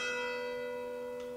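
A church bell rings out once, its long metallic tone decaying through a steady sustained hum with no other sounds, heard in a quiet castle setting.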